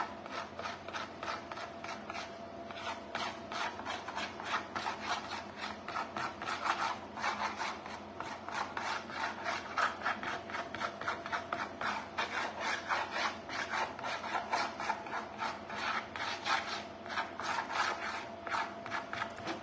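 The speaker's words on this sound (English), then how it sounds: "So I'm gonna scrape like random." Continuous rasping scrape against a hard surface while decorating a Nativity scene with shimmer finish, a steady rhythmic back-and-forth rubbing that runs close and fairly loud for the whole stretch, with no voices.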